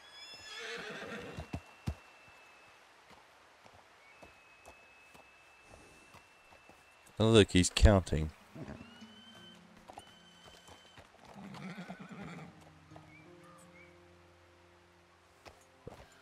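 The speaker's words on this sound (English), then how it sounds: "that's them wild horses I hear roaming around." In the video game Red Dead Redemption, wild horses: one whinnies loudly and nearby in a sharp burst mid-clip, with fainter neighs and hoof clops before and after, and a brief spoken remark.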